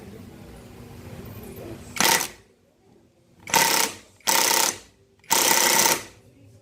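Impact wrench run on its low setting during an Nmax V2 motorcycle repair, firing four loud buzzing bursts of about half a second to a second each, separated by pauses, over a faint background hum.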